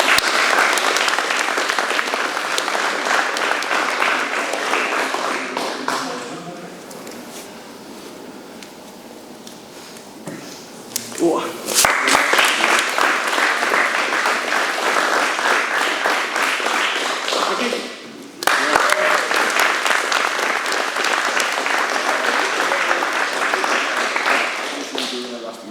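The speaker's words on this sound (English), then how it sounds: "Mark Jobs, round of applause." Audience applause at an anniversary seminar with belt promotions, loud sustained clapping that eases off midway and swells twice again, with voices talking amid it.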